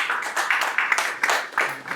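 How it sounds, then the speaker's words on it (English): Audience applause after a keynote address at a conference on foreign influence and democratic values, a brief patter of scattered clapping from a modest crowd. "Round of applause for Professor Sam."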